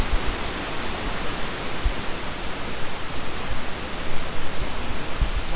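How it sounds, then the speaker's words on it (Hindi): Devkund waterfall in Mayurbhanj, Odisha, a continuous, dense rush of falling water heard close and fairly loud, with no other sounds breaking through. "वहाँ से एक वाटरफॉल आया है।"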